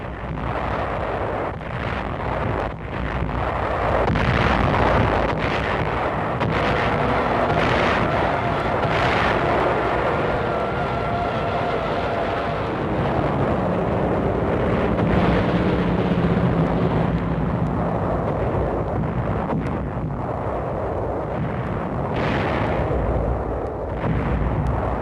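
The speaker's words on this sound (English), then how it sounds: "5 successive days of bombing and shelling climax the pre-invasion foray." Relentless bombing and shelling of beach defenses in the Palau islands, dense overlapping blasts and artillery booms forming a continuous loud roar for the whole stretch.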